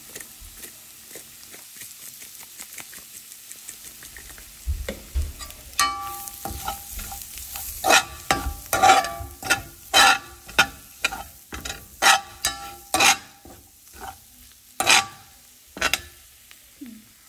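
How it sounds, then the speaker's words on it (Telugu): Prawns fry in a pan over a low flame, giving a soft sizzle under a run of rhythmic stirring scrapes and taps that grow louder and more regular partway through, with no one speaking. "ఇంకా సిమ్లో పెట్టి కొంచెం ఫ్లేమ్ తగ్గించుకొని బాగా ఫ్రై చేసుకోవాలి"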